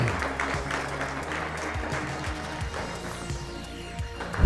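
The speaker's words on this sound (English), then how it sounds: "Moms and dads, let's give them another round of applause" Parents applauding top spellers at a school district spelling bee final, a sustained patter of clapping in a reverberant hall with scattered sharper claps and background stirring, rising in a short burst at the close.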